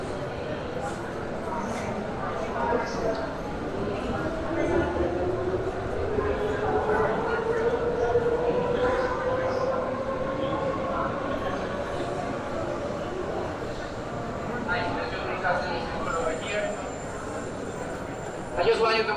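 A metro train runs past on a busy street in central Medellín, Colombia, with a rising and then falling whine and a steady rumble that last through the clip. Street noise and voices are heard throughout.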